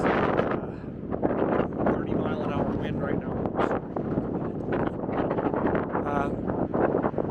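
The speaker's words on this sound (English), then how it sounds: "Wind is strong." Strong gusting wind buffets the microphone on a cold mountain trail, a steady roaring rush filling the whole stretch with no pauses, loud and close, with a voice faintly speaking underneath.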